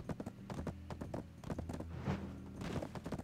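A horse gallops in the video game Black Desert, with rapid rhythmic hoofbeats drumming close and clear, pausing briefly midway before resuming at pace.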